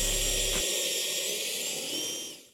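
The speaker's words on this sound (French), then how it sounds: "il faut que je perce mon petit trou" A power drill bores a small hole in a home skatepark build, its steady high whine loud and close for about two seconds before spinning down and fading out.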